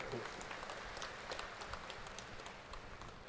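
Audience applause at a millet conclave in Bhubaneswar for the Odisha Millet Mission, a dense, steady wash of clapping from a large crowd heard at a distance throughout.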